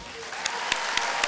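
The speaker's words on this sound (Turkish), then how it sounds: "Önce güzel bir alkış istiyorum." Applause at a graduation ceremony for Haydarpaşa High School, a steady wash of clapping from an audience with a few sharper claps standing out, brief and moderately loud.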